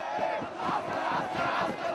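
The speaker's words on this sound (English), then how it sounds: "The crowd erupted with joy" A large crowd in Egypt roaring in celebration at Hosni Mubarak's overthrow, a continuous massed cheer and chanting heard from a distance, rising and falling slightly.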